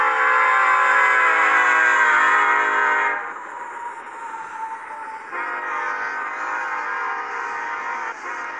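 A freight train with a Union Pacific heritage locomotive leading an intermodal consist rumbles past close by, with a long, loud horn blast over the rolling of cars, then steady wheel and rail noise.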